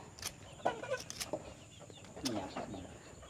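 Chickens cluck faintly while being fed chicken innards at a rice-field hut, giving scattered short clucks and calls over low background noise and possible quiet voices.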